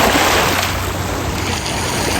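Water surging onto a stony shore at Ontario Place, a loud, continuous rushing wash of waves heard close with wind-like noise and no clear voices.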